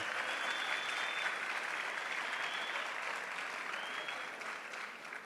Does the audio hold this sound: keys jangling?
no